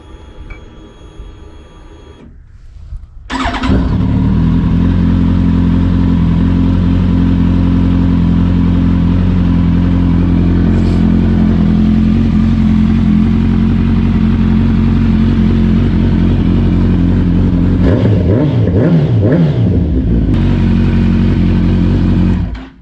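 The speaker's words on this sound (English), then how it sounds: "Let's start it up again and see if it has any issues with its idling." A 2008-2010 Kawasaki ZX10R sport bike engine cranks and fires after a quiet moment, then settles into a loud, steady idle close by with a brief blip of revs near the end.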